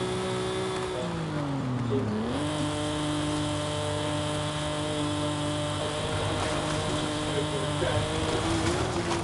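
Simulated car engine in Forza Horizon 5 revving up through the gears, its pitch climbing and dropping with shifts, steady and loud throughout.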